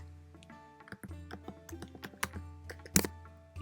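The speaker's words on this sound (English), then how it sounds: "I'm just gonna move this over kind of by just using my arrow keys" Repeated key presses on a computer keyboard, arrow keys tapped one after another in an irregular rhythm of soft, close clicks, with a sharper press near the end.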